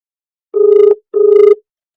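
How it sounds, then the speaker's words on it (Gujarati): A telephone rings on an outgoing call: two loud, close ringback bursts of about half a second each, separated by a short silent gap, with no voices. "રિંગ જાય છે મિત્રો"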